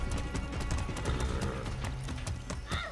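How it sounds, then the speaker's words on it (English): Horse hooves in the video game Far Cry 6 on PS5, a rapid run of clip-clop footfalls at a steady gallop, close and continuous under a busy background. "This is my horse."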